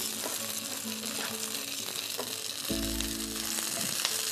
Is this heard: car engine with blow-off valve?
no